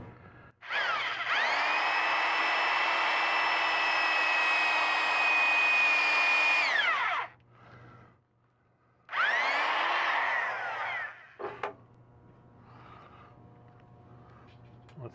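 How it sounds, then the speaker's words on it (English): A power drill pre-drills holes in hardwood, whining loudly and steadily for about seven seconds, then stopping and running again for a shorter burst, followed by a few faint clicks and light handling noise. "I don't want it to split, so that's why I'm pre-drilling this."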